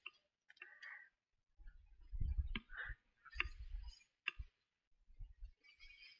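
Light clicking keystrokes on a computer keyboard as a file name is typed, quiet and close, in short irregular bursts with pauses between them.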